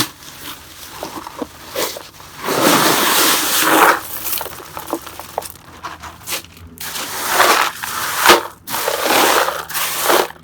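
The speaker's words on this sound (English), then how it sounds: "After spreading out the lava rocks, I'm going to put river rocks to fill in the gaps." River rocks pour and clatter into a planting container over a layer of lava rocks, loud crunching bursts with scraping pauses between pours, close up and with no talk.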